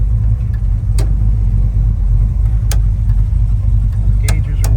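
Waiting in traffic, a 1966 Chevrolet Chevelle SS 396 V8 idles with a loud, continuous low rumble from the cabin, broken only by a few short faint clicks and taps.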